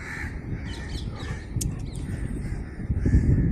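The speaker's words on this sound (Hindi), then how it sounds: "सारे कौवे काट रहे, पता नहीं इसका परिवार कहाँ चला गया" Several crows caw in bursts outdoors in Muzaffarnagar over steady street background noise, with rustling and clatter near the end.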